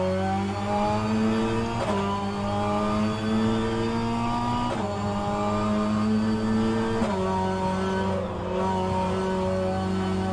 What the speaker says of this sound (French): je me permets de faire un drift avec des pneus froids.